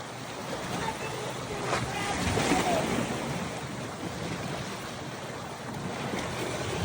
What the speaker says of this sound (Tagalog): Wala na, kusog na ang dagat diri.